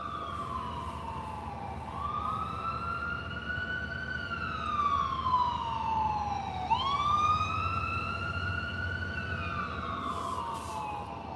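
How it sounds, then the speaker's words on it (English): An ambulance siren wails past on the road, a loud rising and falling tone that sweeps up and down in long cycles and swells as the vehicle comes closer, over a low background of traffic rumble. "That's an ambulance. Gonna pass right in front of us."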